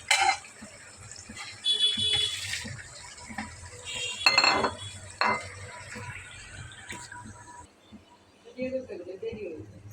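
Fried pitha are lifted out of a frying pan onto a plate, with a series of close metal scrapes and clinks in irregular bursts. Voices talk between and over the clatter.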